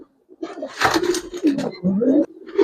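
Giribaz silver pigeons coo in a few soft, throaty rising-and-falling calls, close by and fairly loud, with short pauses between phrases.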